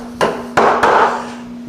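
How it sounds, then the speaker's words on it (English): A 3/8 chisel struck straight down into wood while cutting a dovetail corner for a Shaker end table, three sharp, close mallet knocks in quick succession with short ringing decay, over a faint steady hum. "I've got like a 3/8 chisel here. Just gonna shoot straight down here."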